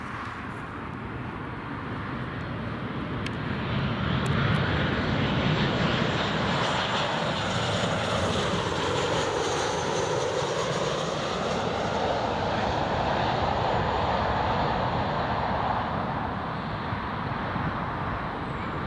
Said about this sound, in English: And the Transavia is on final approach now